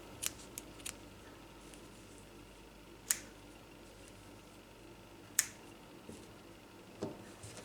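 Scissors snip crochet yarn in a few sharp, close clicks spaced a couple of seconds apart in an otherwise quiet room.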